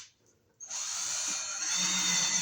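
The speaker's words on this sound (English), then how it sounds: "I find it easier to drill this opening here because trying to poke it out is a lot harder." A power drill bores an opening through an exit light housing, starting after a brief quiet moment and then whirring steadily and loudly, close by, until the end.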